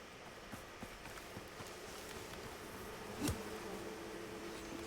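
Bees buzz in the video game Icarus, a faint, steady insect drone heard alongside light footstep-like taps and a brief louder thump partway through.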